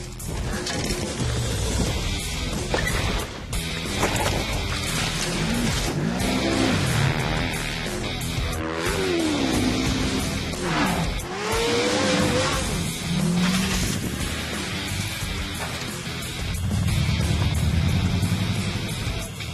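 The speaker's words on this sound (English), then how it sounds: "Pro 4-wheel drives, the bad boys, 4-wheel drives are coming up here shortly." Pro 4-wheel-drive off-road trucks race on a dirt track at a Chicagoland event: engines roar and rev continuously, rising and falling in pitch as they accelerate, with tire noise mixed into loud, dense racing noise throughout.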